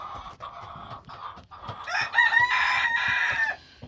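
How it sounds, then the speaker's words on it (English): Broody hens cluck close by in a henhouse, making low repeated clucks that build into a louder, drawn-out crowing call near the end. "we got broody hens everywhere"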